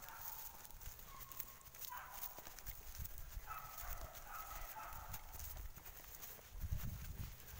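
Horse hooves clip-clop steadily on a hot, sunny trail, with a rider breathing heavily nearby; the rhythmic footfalls continue throughout under some wind and faint background noise.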